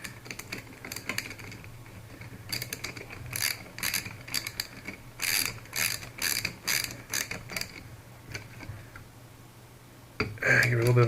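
An RC engine pull start being screwed in with thread lock and torqued: a run of rhythmic ratcheting clicks in bursts, fairly close, then a brief clunk and a louder low hum at the end.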